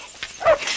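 A guard dog gives a single short, sharp bark, close and fairly loud, in an indoor scene from a 1970s Polish film.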